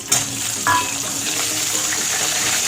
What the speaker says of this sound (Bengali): এই তেলের মধ্যে আমি কোয়াশ কটাও ভেজে নেব